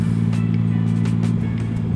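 A motorcycle named Mav, fitted with new brakes and tires, rides with a pillion passenger at summer's end. Its engine gives a steady, loud droning hum with no pauses and no talk.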